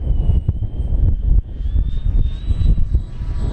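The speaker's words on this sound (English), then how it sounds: "And Junior, I'm going to give you a slow pass here so everybody can kind of see it" An electric RC FMS A-10 Thunderbolt II 1500mm model jet making a slow, low pass in a crosswind, a steady rising and falling whine over heavy wind rumble, loud and continuous with no talk.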